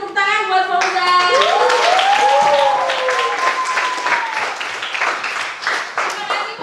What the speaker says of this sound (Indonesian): tepuk tangan buat Fauzan